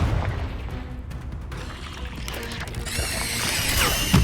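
Confringo blast spell exploding in a Harry Potter video game, a dense rumbling burst that swells near the end amid busy game sound.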